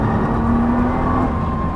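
Nissan GT-R on a circuit at Dreux, its engine droning steadily under throttle as it pulls out of a corner, loud and close with a constant dense roar and no voices.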